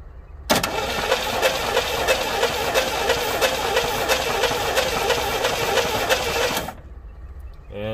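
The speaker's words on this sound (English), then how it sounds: "turn that engine over" The engine of a 1970 GMC utility body pickup, unused for 19 years, cranks over for about six seconds with a fast, even whirring rhythm, then cuts off abruptly into quiet.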